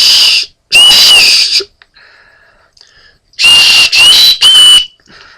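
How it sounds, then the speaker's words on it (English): Survival kit signal whistle on the back of a knife blown in two rounds: short, shrill, close blasts, two in the first burst and three in the second, with quiet rustling between. "signal whistle"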